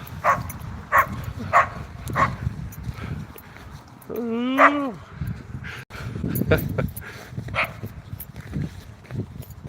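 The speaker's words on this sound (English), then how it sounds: "Little dogs." Several sharp, high yips from small dogs, plus a rising whine in the middle, repeat at uneven intervals outdoors.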